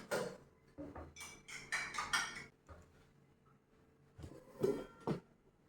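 A spoon stirs ABC juice with a pinch of salt in a glass, giving light clinks and scrapes in a few short bursts, fairly close and quiet, with pauses between them.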